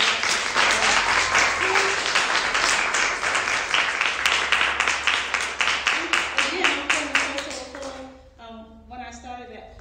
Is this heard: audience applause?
yes